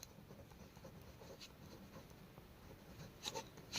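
Faint, steady scratching of writing on a board during a class 10 maths lesson, a soft continuous stroke sound with a few slightly louder marks near the end.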